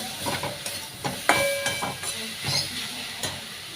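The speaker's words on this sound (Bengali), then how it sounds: "বাদামটা দিয়ে একটু নাড়াচাড়া করে নেব" Fried peanuts stirred into sizzling greens in a pan, with a soft steady sizzle beneath intermittent scraping and clinking of the spatula, close up, plus a brief tonal squeak partway through.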